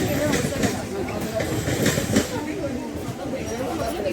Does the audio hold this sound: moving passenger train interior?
yes